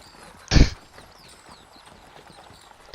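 A tabletop game sound effect of horses' hooves, heard as one sharp loud hoof-like burst followed by faint scattered clops and a soft whinny-like tone in the background.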